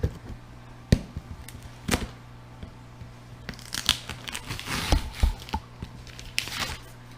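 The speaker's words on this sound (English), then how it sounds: "Should probably rip this off first." Plant packaging being torn open by hand during an aquarium plant unboxing, sharp crackling rips and crinkling bursts, some isolated and some in a rapid cluster near the end, close and fairly quiet.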